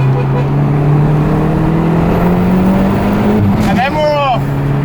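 A Lamborghini Aventador driving on a road in Ireland, its engine droning steadily loud and close, rising in pitch toward the end as it accelerates, with voices over it.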